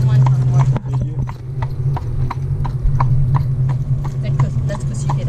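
Horse hooves clip-clop in a steady, even rhythm as a horse pulls an Amish buggy in Lancaster County, Pennsylvania, close by beneath a low rolling rumble, with people talking over it.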